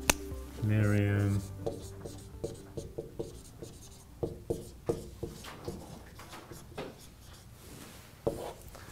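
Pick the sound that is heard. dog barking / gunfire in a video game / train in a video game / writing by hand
writing by hand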